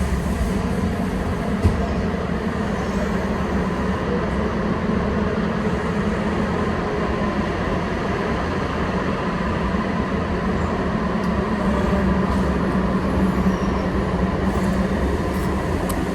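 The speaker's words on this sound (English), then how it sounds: "So I'm getting off of the train at the Bayview." Interior ride on Ottawa's Trillium line light-rail train near Bayview station, a steady loud rumble of wheels and carriage running without pause, no one talking.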